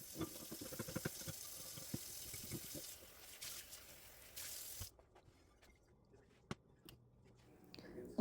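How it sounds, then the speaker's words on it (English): Cast iron pan being scrubbed with a sponge and a little soap under water, wet sloshing and scrubbing with running-tap sounds for the first few seconds, then quieter with occasional drips and small knocks. "behind it with that sponge and a little bit of soap just to get all of the food greases off of it"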